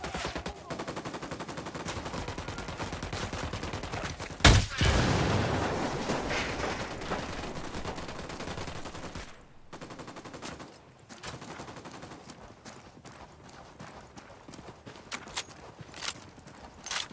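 Gunfire in Ghost Recon Wildlands, with rapid automatic bursts and scattered shots, a heavy blast near the start, then lighter intermittent shots trailing off.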